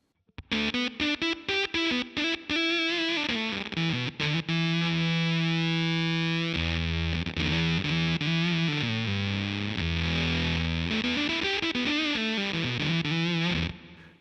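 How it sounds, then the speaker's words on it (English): Loud, sustained gated fuzz from an electric guitar through a Walrus Audio Fundamental distortion pedal: choppy stabbed chords at first, then held and sliding notes with a buzzy, saturated tone that cuts off abruptly between phrases. "some people really love a gated Fuzz"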